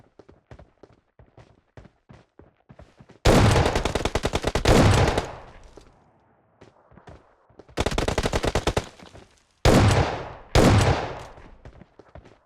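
Gunfire in PUBG Mobile: a run of sharp single shots, then several loud rapid bursts separated by pauses, each burst a tight string of cracks with ringing tails, no voices.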